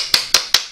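A hammer strikes a Makita battery pack four times, evenly spaced, each a sharp close knock dying away quickly, with no other sound between the hits.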